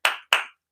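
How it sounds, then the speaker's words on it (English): Two sharp, close hand claps spaced about a quarter second apart, each ringing briefly before fading to silence, given in praise of an NFL player. "Clap it up for Bijan Robinson."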